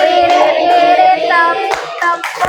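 Group hand claps during an ice-breaking game at a job training session, a few sharp loud claps spaced irregularly under a raised, sing-song voice giving instructions.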